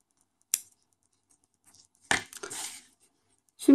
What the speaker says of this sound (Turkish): Ben ipimi burada kesiyorum.